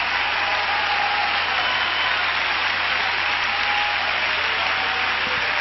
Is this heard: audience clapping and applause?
yes